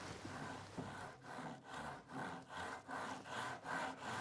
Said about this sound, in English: I've now set my panel in my vise, ready to do the final cut